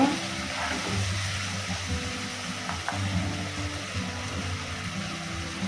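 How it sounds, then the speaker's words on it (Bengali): Frying pan with the lid just lifted, its contents stirred while cooking restaurant-style chilli chicken at home: a steady, close sizzle with soft scraping and a couple of faint clicks, continuous throughout and without any talking. "দু মিনিট পর আমি ঢাকনাটা তুলে নিলাম এখন একটু নেড়ে নেবো"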